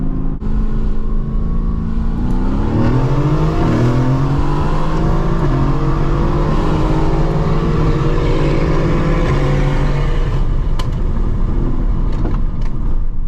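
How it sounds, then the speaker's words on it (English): A Mercedes-AMG GT S sports car in a drag race roars loud and close, its engine note climbing and then dropping through downshifts with rising and falling pitch, sustained for many seconds without talk. "those downshifts sound amazing"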